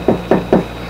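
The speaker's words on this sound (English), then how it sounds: "Oh, who is that? Someone at my door." Three quick knocks on a door, evenly spaced and close, each a dull hollow thud over a low steady hum.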